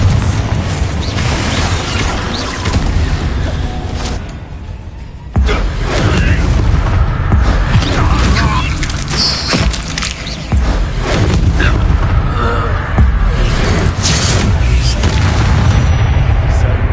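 Bombarda and Confringo spell blasts in Hogwarts Legacy, loud booming explosions with crashing debris repeating over a sustained fight and broken by a brief lull, with voices calling out over the action.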